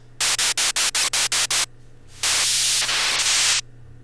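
Super Nintendo burn-in test static: eight short, evenly spaced bursts of loud hissing white noise, then a longer continuous static blast, all over a steady low mains hum, with no voices.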